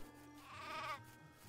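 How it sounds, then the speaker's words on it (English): Sheep bleating in the video game Craft the World, a single drawn-out bleat lasting about a second over a low steady game background, fairly quiet with no talking. "Look, we've got like sheep here."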